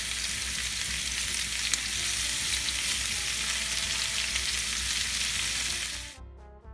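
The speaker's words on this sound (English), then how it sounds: "We want to make sure this is hot so it sears this chicken." Chicken sears in a hot pan for chicken tikka masala, giving a loud, steady, close sizzle that runs unbroken and then cuts off abruptly near the end.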